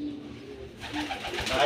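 Racing pigeons arriving home from a day-bird race, soft cooing close by that grows louder toward the end, mixed with background voices.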